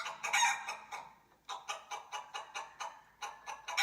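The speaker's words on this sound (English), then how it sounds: "Chickens chirp." Chickens cluck and crow in a rapid, rhythmic series of bright calls, close and fairly loud, with a brief pause midway before the clucking resumes.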